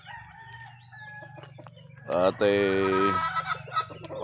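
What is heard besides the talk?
chickens and rooster in a chicken coop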